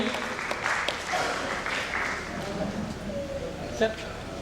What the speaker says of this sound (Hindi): इस सम्मान को एक और जोरदार ताली।